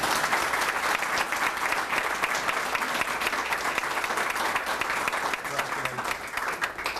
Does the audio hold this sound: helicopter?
no